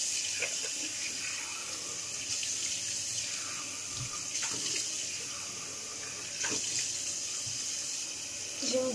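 Tap water running steadily into a sink while rinsing, a continuous hissing stream with brief splashes and clatter, fairly close and alone without speech.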